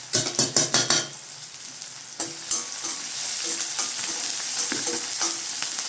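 Onion fries in hot oil for rava upma: a quick run of rhythmic utensil clatters opens, then a bright, close sizzle continues with intermittent spatula scrapes and no voices.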